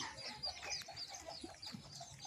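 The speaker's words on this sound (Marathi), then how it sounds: "एक कोंबडी इकडे त्यांची बसलेली आहे ते पिल्ली छोटे छोटे घेऊन आतमध्ये" A hen clucks among her small chicks inside, with faint high peeping over a steady run of soft, close clucks and no talking.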